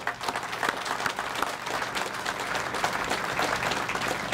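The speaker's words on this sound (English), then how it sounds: "Let's give them a round of applause." An indoor audience applauds steadily at a store opening in downtown Winston-Salem, a dense, moderately quiet patter of many hands clapping without pause.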